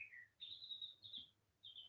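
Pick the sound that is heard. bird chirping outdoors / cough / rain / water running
bird chirping outdoors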